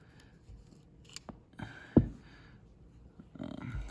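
Pivot being pulled from a Spyderco Para 3 Lightweight folding knife with an S30V DLC blade and brown G10 scales: a few small metallic clicks and taps, with one sharp snap near the middle, alone in a quiet room.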